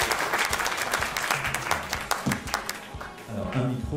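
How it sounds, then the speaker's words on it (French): Audience applause at a round-table event on apprenticeship as a guest is welcomed, a loud sustained burst of many hands clapping close by, continuing unbroken for several seconds. "Monsieur Pierre Gattaz, merci d'applaudir et d'accueillir."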